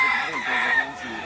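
A rooster at a Venezuelan gamecock breeding farm crows once, close and loud, its drawn-out call rising and falling over about a second, with faint voices in the background.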